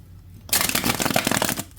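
A deck of bendy tarot cards being riffle-shuffled close up, a quick burst of rapid flutters after a short quiet start.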